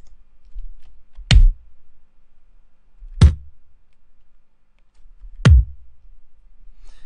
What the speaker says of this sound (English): we'll start off with a kick drum